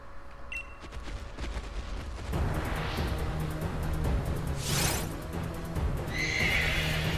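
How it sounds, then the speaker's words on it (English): Horse neighs and whinnies loudly in the snowy Crown Tundra of the video game Pokemon Sword, with clip-clop hooves, a game music bed and gunfire-like bursts layered in, no speech. "It's a cool looking horse."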